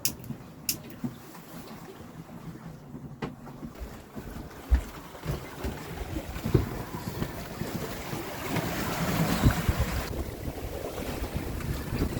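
Soft, light wind buffets the microphone outdoors at sea in the Pacific, with gentle waves lapping and occasional faint knocks and creaks.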